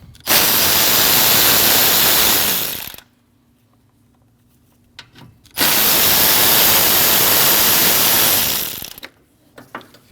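A power tool removing two 8 mm bolts from the latch of a 2014–2023 Jeep Cherokee, heard close and loud in two long bursts of about three seconds each, separated by a quiet gap.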